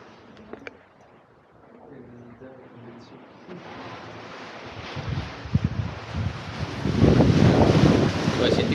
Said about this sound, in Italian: Senti qua il rumore del mare